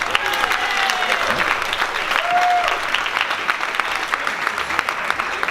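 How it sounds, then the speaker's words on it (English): Audience applause at a Morris dance jig competition in Woodford, continuous lively clapping from a crowd with a short whistle or cheer partway through. "Can we please have a round of applause?"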